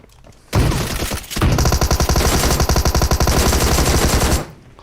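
Sustained rapid automatic gunfire in PUBG Mobile, a short burst followed by a long, loud, evenly spaced stream of shots, close and dominant.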